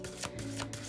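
A deck of cards being shuffled for a reading, brisk riffling bursts close to the ear over a low steady background hum.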